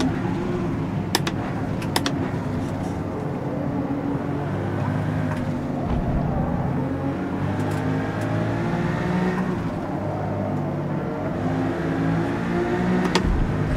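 Engine of an Audi RS5 race car in Forza Motorsport, a continuous loud drone that rises and falls with revs and shifts, with no voices over it.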